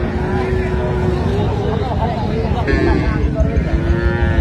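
Cattle lowing at a busy Ranigonj haat cattle market in Dinajpur, where cows are sold with their calves; a drawn-out moo rises over the steady crowd noise and people talking nearby.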